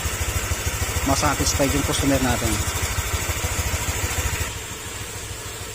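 A Honda Click 125 v2 scooter engine idles with a steady, rapid putter after a cam chain tensioner replacement, close by, while someone speaks over it at first before the engine note carries on alone.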